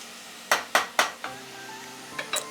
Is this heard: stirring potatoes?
yes